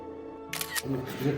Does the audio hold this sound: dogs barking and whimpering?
no